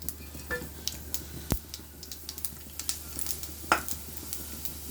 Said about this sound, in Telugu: కొన్ని పోపులు వేసుకుంటున్నాను